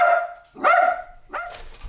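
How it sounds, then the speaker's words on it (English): A pet dog barks indoors in a few separate bursts, close and clear, with short pauses between the barks and no one talking over them. "now my doggy's barking again"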